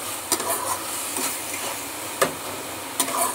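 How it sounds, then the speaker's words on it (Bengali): Spice paste with turmeric and sugar being stir-fried in a pan, a steady low sizzle broken by a few sharp spatula scrapes and taps, close and alone without talk. "মশলাটাকে কষিয়ে নিই ভালো করে"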